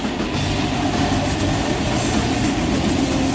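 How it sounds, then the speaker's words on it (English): A freight train carrying military vehicles and tanks rolls past in Red Bluff, California, a loud continuous rumble and rattle of rail cars with no break in the noise. "I look over and see this train that's carrying these military vehicles"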